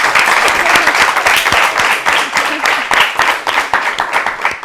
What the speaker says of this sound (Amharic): እሺ፣ አጨብጭቡ።